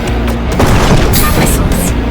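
A missile launch in the flight video game Rogue Flight, a booming burst over loud engine rumble, with a short voice cue in the game.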